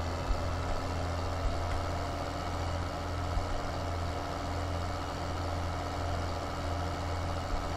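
A tractor engine in Farming Simulator 15 drones at a steady, low idle, a constant rumbling hum with no other sounds over it.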